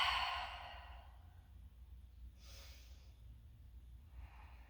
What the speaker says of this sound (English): Taking 2 breaths here.